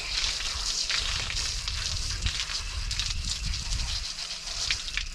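Water sprays steadily from a garden hose while a dirt bike air filter is rinsed, a continuous close hiss with splashing texture that runs unbroken throughout.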